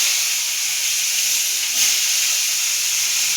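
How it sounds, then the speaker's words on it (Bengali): Onions sizzle in hot oil tempered with nigella seeds for a Bengali pointed-gourd curry, a steady, close, even hiss with no talking. "সেই তেলে কালো জিরা ফোড়ন দিয়ে আমি পেঁয়াজগুলো ভেজে নেব।"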